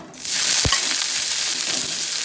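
Finely chopped shallots hit hot coconut oil with a sudden loud sizzle and a faint stirring clunk. A steady, close frying crackle then carries on alone.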